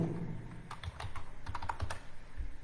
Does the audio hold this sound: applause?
no